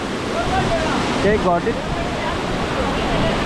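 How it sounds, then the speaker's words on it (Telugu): Amboli waterfalls in Maharashtra give a constant broadband roar of falling water, loud and close, while a voice speaks briefly over it. "Amboli water falls, remember it"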